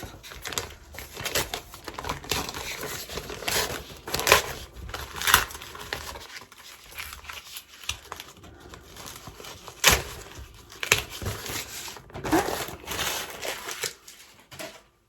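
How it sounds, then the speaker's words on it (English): Tearaway stabilizer being torn off machine embroidery: dry paper crinkling and ripping in short bursts, close by, with several louder tearing strokes spread across the stretch and no talking. "I'm going to take my tearaway off."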